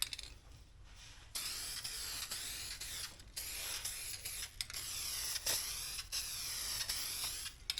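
Spray gun laying down a coat of filler primer on a Valkyrie part during custom bodywork, a steady close hiss in several bursts with brief pauses between passes, no talking.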